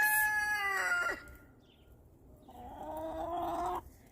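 A rooster on a farm crows twice, each a loud harmonic call with a drawn-out tail, separated by a short quiet gap.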